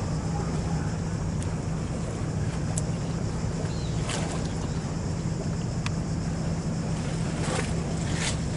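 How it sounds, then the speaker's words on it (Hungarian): Steady low rumble of a large ship at sea off Split, with constant wind and water wash and a steady low engine hum throughout, no voices. "Hatalmas nagy hajó."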